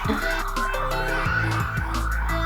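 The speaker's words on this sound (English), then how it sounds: "This alarm is throwing me off and I can't speak." A loud, continuous electronic alarm blares steadily with shifting harmonic tones, running unbroken throughout.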